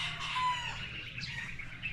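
A rooster, sire of a backyard flock in the Philippines, crows in a long wavering call that fills the two seconds, close and fairly loud over steady rural background noise.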